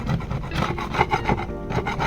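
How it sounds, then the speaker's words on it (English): Rough, rhythmic scraping strokes rasp old silicone off a boat deck, close and steady, one stroke following another with no talking. "And then I've been scraping all of the old silicone off."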